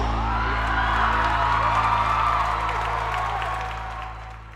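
Studio audience applause mixed with whoops and cheers greets the hosts at the opening of a Polish talk show. The sound is dense and steady, then fades away toward the end.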